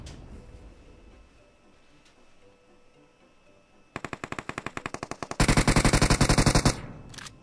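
Rapid automatic gunfire from a teammate in a battle-royale shooter game, with a burst of regular shots followed by a louder, denser stream of rounds, heard close and without talk.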